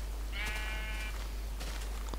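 A single sheep bleat from the video game Minecraft sounds once, a short wavering cry over a low constant hum, with no talk during it.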